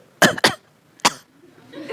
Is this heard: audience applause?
no